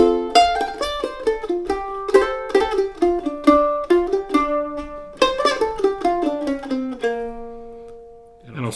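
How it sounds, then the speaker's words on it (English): Mandolin plays a short melodic passage, with plucked notes and double stops in a steady rhythm, close and clear, ending on a sustained note with no talking. "So those two measures together sound like this."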